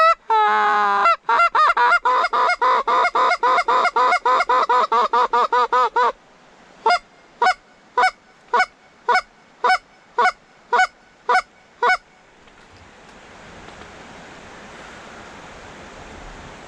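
Geese honking repeatedly, first a rapid run of calls, then slower spaced honks, followed by the wash of surf or rushing water.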